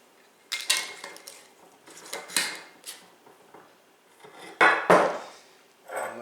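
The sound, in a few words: handling a quart-size glass jar and lid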